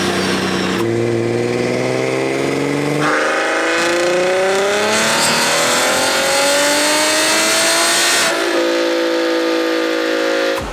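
A BMW 340i engine with a B58 stock motor revs hard on a dyno and climbs steadily in pitch through a long sustained pull, loud and close, then drops back to a lower idle.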